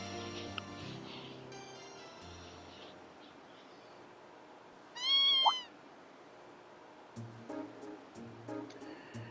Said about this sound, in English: What's a kitten doing here?